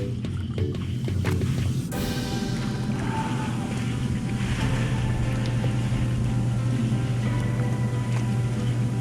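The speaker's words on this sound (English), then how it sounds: "Let's crank up the jets." Softub hot tub jets running outdoors on a snowy winter day, a steady loud churning roar of water and motor hum, continuous throughout with faint splashing on top.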